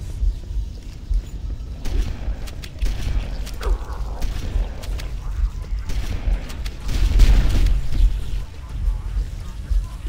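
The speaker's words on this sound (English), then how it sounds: "He got the door open." A heavy door grinding open in Halo: Combat Evolved, on the Library level: a low mechanical rumble with creaks and clanks that swells near the end over ongoing game noise.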